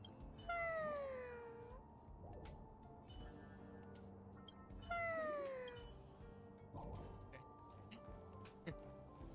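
A cat in the video game Genshin Impact gives two drawn-out complaining meows a few seconds apart, each sliding down in pitch, over quiet game background sounds.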